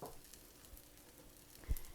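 Rice toasting in a little oil in a skillet for Greek meatballs: a faint, steady low sizzle with a soft stirring scrape near the end, no voices.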